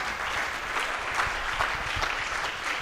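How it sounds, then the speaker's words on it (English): Steady, full applause from a TEDx audience after a talk, many hands clapping continuously at an even level throughout, with no speech over it. "Oh, you can clap better"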